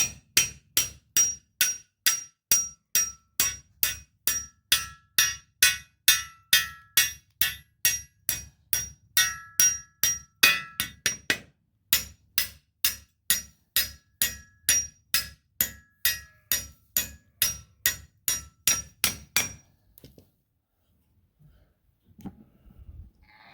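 Steady hammer blows drive half-inch steel rods down through cement into clay, struck in a fast, even rhythm of about two per second with bright metallic ringing. The strikes pause briefly near the middle, then carry on and stop, leaving quiet.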